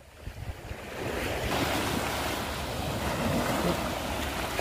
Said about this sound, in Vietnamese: Sóng biển quá trời luôn.